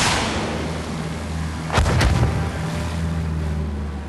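A World War One rocket fires in the Battlefield 1 video game as one sharp double boom that rises out of a steady engine drone and then dies away.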